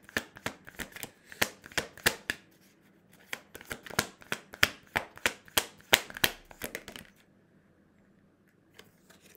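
Playing cards are handled and laid down in a quiet room, giving a steady series of sharp, close snaps and flicks. They stop abruptly, leaving near silence.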